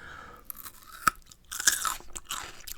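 Crunchy bites and chewing of raw bell pepper and apple, close and crisp, with several sharp snaps followed by wet crunching bursts.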